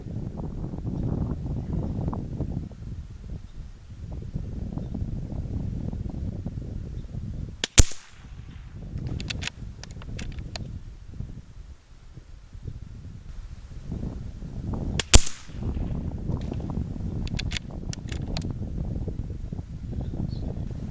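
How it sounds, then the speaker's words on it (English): Two sharp, loud rimfire rifle shots spaced several seconds apart outdoors, each a crisp crack over constant wind rumble on the microphone. "Maybe this will shoot a little better."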